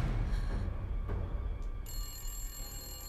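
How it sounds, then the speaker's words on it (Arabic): A telephone bell rings in a room in a Turkish period drama, steady and moderately loud with a brief pause partway through, no talk over it. "بالأول ردي على التليفون فاطمة."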